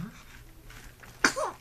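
A person sneezes once, a sudden sharp burst that follows quiet murmuring and breathing.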